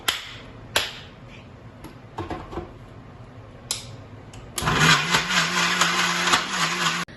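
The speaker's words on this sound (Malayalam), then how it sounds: "അപ്പൊ ഇതിനെ ഞാനൊന്ന് അടിച്ചെടുക്കുകയാണ്." A few sharp clicks and taps at first, then a blender whirs loudly and steadily for the final few seconds, blending a smoothie that may include a spoonful of honey.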